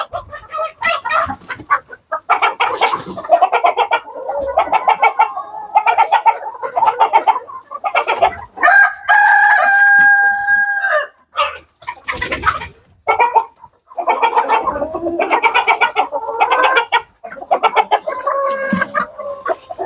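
Black chickens at a chick farm cluck busily and continuously up close, with a rooster letting out a drawn-out crow midway through the flock noise.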